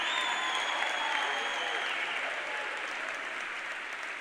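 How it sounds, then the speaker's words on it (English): A motivational seminar audience breaks into sustained applause, a dense wash of clapping from a large crowd that holds steady and then slowly fades slightly, with no speech over it. "Give yourselves a round of applause."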